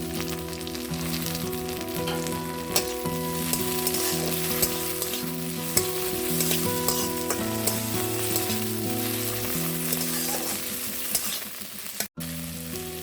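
Tomatoes and green chillies fry and sizzle loudly in a pan for spicy Maggi, a dense continuous hiss with occasional stirring taps, ending in a brief sharp knock, no talking.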